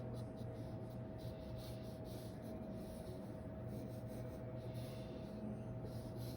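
An HB pencil sketching large letters on paper, a faint continuous scratching and rubbing in short strokes over a steady low hum, quiet and close.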